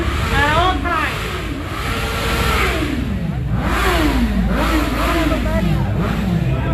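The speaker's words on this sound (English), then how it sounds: "They're revving up their engines, thinking they're scaring somebody." Car engines rev repeatedly during a downtown monument removal rally in Florence, Alabama, rising and falling in loud sweeping pitch as vehicles circle nearby, with crowd voices underneath.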